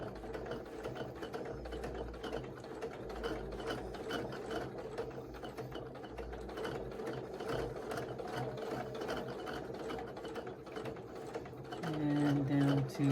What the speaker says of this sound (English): I like using my open toe foot so I can see where I'm stitching.